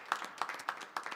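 A church congregation claps during a worship service, a short run of rhythmic hand claps in even beats at moderate distance.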